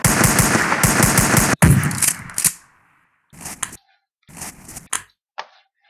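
A gun empties a whole magazine in a Call of Duty video game: a loud, rapid automatic burst runs for over a second, then shorter bursts and single cracks come with silent gaps between them.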